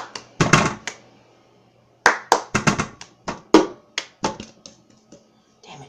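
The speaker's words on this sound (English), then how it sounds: "So you're gonna clap twice." A single person claps by hand in a quiet room, first in a short burst, then after a pause in a longer run of sharp, close, dry claps that taper off in strength.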